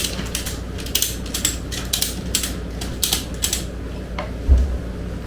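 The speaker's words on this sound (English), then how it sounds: "Then you start cranking away." A ratchet is cranked in a steady run of loud, close clicking pulls, each stroke giving a sharp metallic ratcheting burst over a low mechanical rumble, slowing toward the end.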